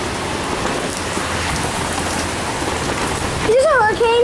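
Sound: heavy rain during a hurricane

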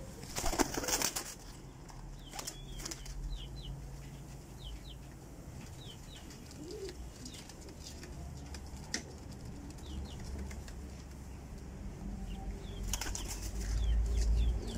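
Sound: pigeons released, flapping wings

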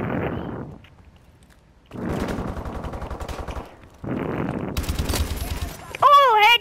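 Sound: gunfire from a video game

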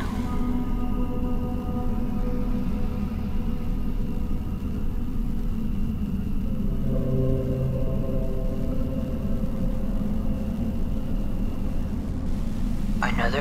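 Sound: car passing on the road in the video game Fears to Fathom

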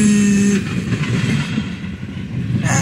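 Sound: freight train passing

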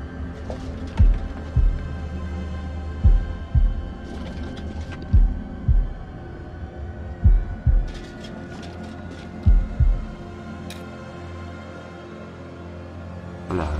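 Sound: heartbeat from House of Ashes video game

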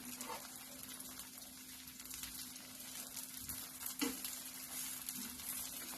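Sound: upvas dosa sizzling as it cooks on the pan

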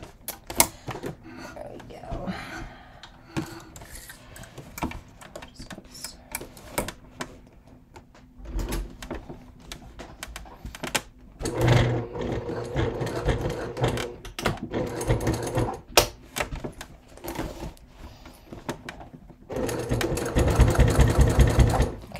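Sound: sewing machine stitching thick leather bag seam

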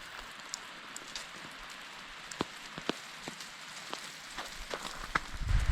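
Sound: rain falling, snow melting

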